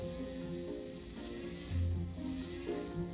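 A small drone motor on PWM-pulsed power from a supercapacitor, producing a faint steady electrical whine with a high buzzing hiss and slight wavering pitch throughout, with no voices.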